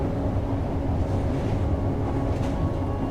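A train ride in the video game Deus Ex: Mankind Divided, heard as a dense, continuous low rumble of rolling carriages with a steady mechanical hum and no voices.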